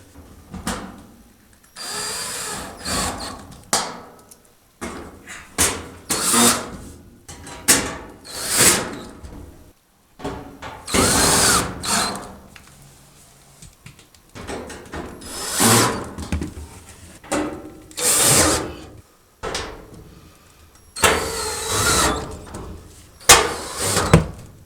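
A power drill drives screws into the back panel of a Kenmore gas dryer in a short series of loud, close whirring bursts separated by brief pauses.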